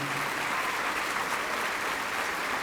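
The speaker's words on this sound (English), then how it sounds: "please, another big round of applause for these young men and women" Sustained applause from an audience at a high school scholarship night honoring young people entering service, an even wash of many hands clapping with no pause.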